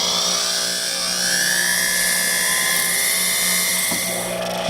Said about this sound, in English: you're going to drill a hole with a round burr, and you got to go in straight